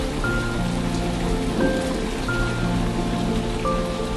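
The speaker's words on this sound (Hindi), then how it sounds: "कुछ ही देर में बारिश के साथ साथ ओले भी गिरने लगते हैं।" Heavy rain mixed with hail pounds down on crops in a village field, a dense, continuous close patter with sharp hail impacts and faint tonal background notes, no voices.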